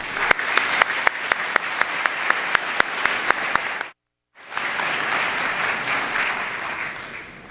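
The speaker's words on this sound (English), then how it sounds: "Graduates, let's give them a round of applause." Graduates at a fall convocation give a round of applause for their supporters. The dense clapping fills a large hall, with sharp percussive beats at first, then a short silent break before the applause resumes.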